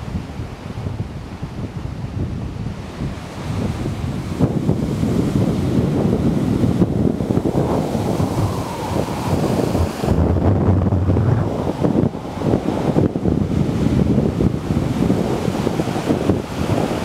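Stormy Black Sea surf crashes and roars without pause under strong wind buffeting the microphone, a dense, loud wash with no voices.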